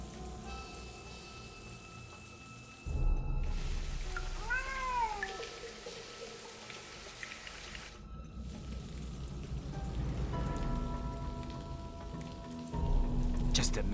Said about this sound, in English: It was a cat.